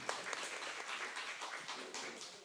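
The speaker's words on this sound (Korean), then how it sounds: "일단 박수로 맞이해 주시기 바랍니다" An audience at an anniversary book concert applauds, a fairly faint but steady spread of many hands clapping that swells and eases slightly throughout.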